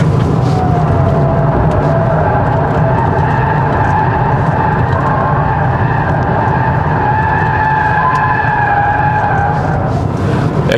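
Inside a 2023 Hyundai Ioniq 6 Long Range AWD electric car on 18-inch wheels, steady road and tire roar fills the cabin as it corners fast. A thin, drawn-out tire squeal whines over the roar throughout.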